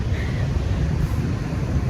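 Wind blowing on a sunny day in Ho Chi Minh City, Vietnam, a steady low rumble of gusts buffeting the microphone, loud and continuous with no voices.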